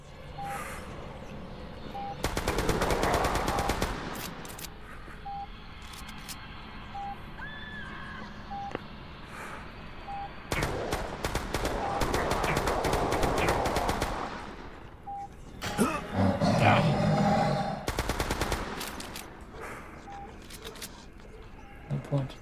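Gunfire in the horror survival shooter Chasmal Fear, bursts of rapid automatic shots in several long volleys with game tones and effects between, a voice talking over the action.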